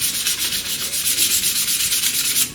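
A blackwood bowl is sanded with 240 grit sandpaper on a wood lathe, giving a bright, even rubbing hiss that pulses steadily and stays close and loud throughout, with no talking.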